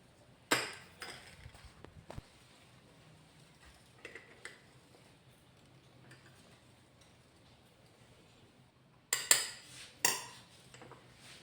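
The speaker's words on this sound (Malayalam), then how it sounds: "ഇത് കട്ടയില്ലാണ്ട് നല്ല മിക്സ് ചെയ്യാം." A spoon stirs custard powder into cooled milk, with sparse, sharp clinks against the bowl near the start and a cluster near the end, and a quiet hush in between.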